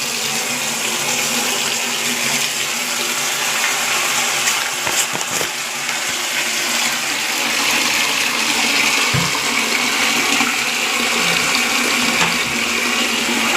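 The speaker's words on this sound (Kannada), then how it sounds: "ಎಲ್ಲ ಅರ್ಬಿ ತೊಯ್ಸಿಡ್ತೀನಿ ರೀ" Continuous splashing water as clothes soak in a tub with soap powder, a steady close wash of sound with a few sharper knocks and sloshes partway through, no voices.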